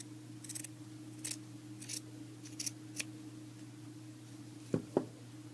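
Scissors snipping through fabric for a baby leg warmer project, about six short crisp cuts spaced unevenly, then two louder closing snips near the end, quiet room hum underneath, no voices.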